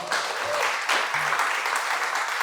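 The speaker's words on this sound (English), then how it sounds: "Big round of applause for Vishal" Audience applause at a portfolio critique night in Dubai, a short burst of steady clapping from a small crowd, fairly close, with a brief voice in the background.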